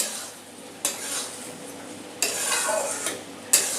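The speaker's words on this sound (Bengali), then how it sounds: "এবার হাই ফ্লেমে এটাকে একদম শুকিয়ে নেব আমি।" Bhorta mash stirred in a pan over high flame, spatula scrapes landing in a few sharp strokes over a soft steady sizzle, close and moderately loud.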